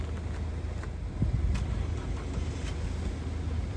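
A used Vauxhall Corsa engine starts and idles with a low steady rumble, close by, with a slight surge partway through and no voices.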